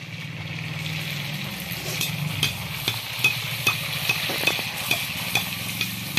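Fuchka puris fry in hot oil, a continuous close crackling sizzle broken by a regular series of sharp knocks as a utensil stirs them, with a low hum underneath and no talk.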